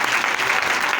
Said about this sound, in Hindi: जोर से तालियां शुक्रिया में।